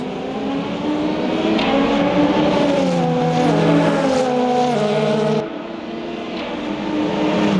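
Race car engines in the Le Mans Ultimate endurance racing game, several cars close together with a near engine climbing steadily in pitch, loud and continuous, then a brief dip after an upshift as it builds again.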